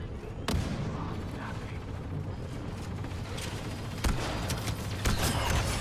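Grenade blasts in the Star Wars Battlefront video game, sharp explosive cracks standing out of a dense, loud din of battle noise, with several bursts in quick succession near the end.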